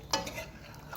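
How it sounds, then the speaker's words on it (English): Brief spoon scrapes and soft wet stirring in a pot of Trinidad stewed chicken, a few quiet strokes heard up close. "mix it all together"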